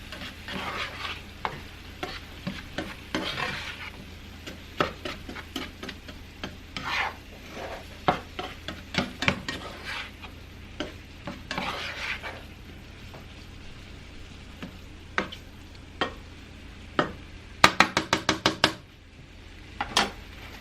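Vegetables seasoned with garlic powder and onion powder cook in a pan, a soft sizzle running underneath while a utensil scrapes and stirs in frequent short strokes, with a quick burst of rapid scraping near the end.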